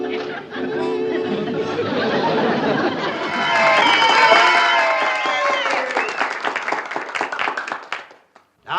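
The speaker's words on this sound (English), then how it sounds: "judging from your applause" A studio audience at a talent contest applauds with sustained clapping and crowd chatter, swelling in the middle, then breaking into scattered claps before fading out.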